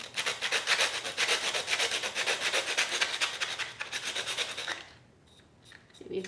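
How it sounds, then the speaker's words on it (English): Wood being sanded by hand with sandpaper, rapid rhythmic back-and-forth rubbing strokes, close and fairly loud, stopping abruptly near the end with a few light scrapes after. "Remember to go with the grain when you're sanding"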